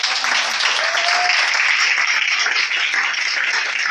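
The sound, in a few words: congregation applauding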